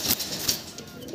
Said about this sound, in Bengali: খুব দারুণ পায়রা আছে